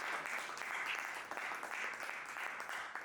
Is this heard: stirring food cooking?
no